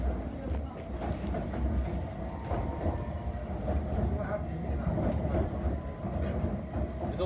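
A London Underground Hammersmith & City line train pulls away, its steady low rumble and rail noise filling the carriage at a constant level, with faint voices in the background.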